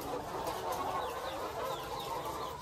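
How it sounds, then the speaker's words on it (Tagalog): A flock of 240 newly arrived Dekalb White layer hens cluck and chatter together, a steady, moderately faint murmur of overlapping calls with no talk. "Pinuntahan lang po natin yung ating bagong mga manok."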